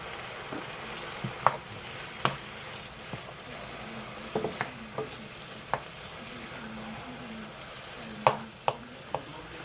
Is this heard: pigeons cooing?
no